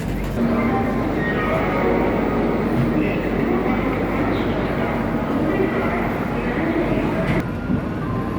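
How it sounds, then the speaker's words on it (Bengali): The Shipra Express pulls out of Howrah station bound for Ujjain, a steady heavy rumble of rolling carriages filling the space throughout, with a faint squeal near the end and someone talking nearby. "একদম রাইট টাইমে আর কি ছেড়ে দিল ট্রেন"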